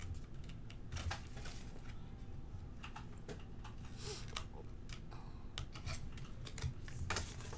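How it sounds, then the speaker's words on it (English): Scissors snip paper at an angle while a coin envelope is made by hand, a series of close, crisp cuts and small paper rustles at irregular intervals, with no voices. "So I'm just gonna cut that kind of an angle."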